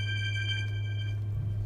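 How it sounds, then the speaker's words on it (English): A phone ringing, a steady electronic trill over a low constant hum, close and fairly clear, with no talking over it. "Of course, I'm getting a phone call."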